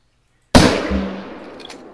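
A hunting rifle fires once in the hunting game The Hunter: one sudden, loud, close shot after silence, followed by a rumbling decay that fades over about a second.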